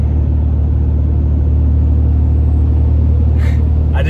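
A Cummins 6.7 diesel engine fitted with an aftermarket eBay intake rumbles loud and close, a deep steady idle drone with a faint whoosh near the end.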